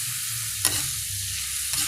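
Onions and tomatoes sautéing with salt in a pan, stirred by hand: a continuous frying sizzle with two brief scraping strokes of the spoon against the pan, close and clear with no talk.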